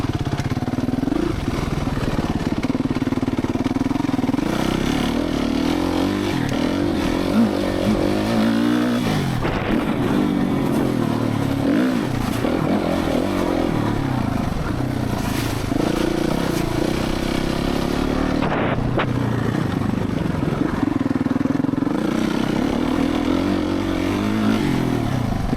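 Suzuki RMZ450 motocross bike engine running steadily and loud throughout, with repeated blips and revs rising and falling, no talk.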